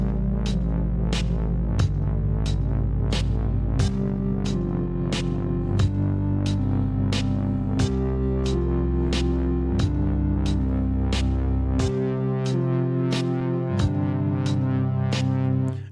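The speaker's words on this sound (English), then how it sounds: "the chords are oscillating between C and G" Ending theme of a video game: a steady, loud music loop with a low bass line under chords that swing back and forth between C and G, driven by regular percussive hits, with no voices.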